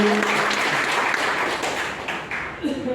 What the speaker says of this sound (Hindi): प्लीज उनके लिए जोरदार ताली